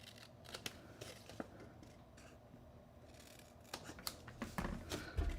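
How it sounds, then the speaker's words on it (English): Saw strokes for miter cuts on wooden box pieces for a handmade triangle gift box, a run of short, quiet scraping and clicking bursts that grows louder and busier toward the end. "So miter cutting there and then here as well."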